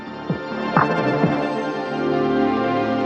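A soft, sustained synth pad from the JORNA synthesizer, with layered steady harmonic tones and a few gentle swelling sweeps in the first second before settling into an even, calm drone.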